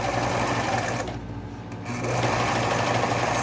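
A sewing machine runs fast and loud, stitching fabric in a continuous whirring drone, briefly easing off for about a second in the middle before speeding back up, with no talking.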